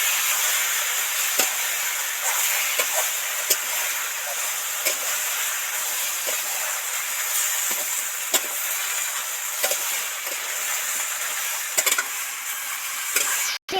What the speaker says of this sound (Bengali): আদা বাটা দিয়েছি সুন্দর করে ওর সাথে মিশিয়ে ভেজে নিয়েছি